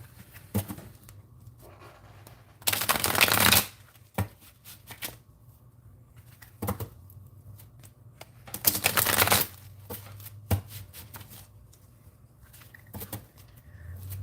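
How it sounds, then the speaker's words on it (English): Playing cards being shuffled indoors: two long riffling bursts of rapid flutter, a few seconds apart, with soft card taps and handling clicks in between. No talking. "You want to shuffle the cards, Kiki?"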